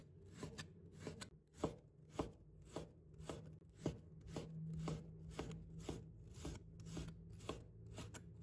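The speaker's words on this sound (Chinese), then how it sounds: "先将五花肉切成薄片。" A knife chops rhythmically through slices of skinless pork belly on a cutting board, a quick, steady run of close, crisp thuds.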